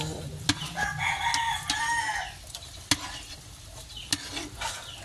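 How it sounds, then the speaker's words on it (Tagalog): Biko sticky rice is stirred in a pan with sharp, irregular scraping clicks and knocks, while a rooster crows nearby in the background. "Halo po ito ng halo."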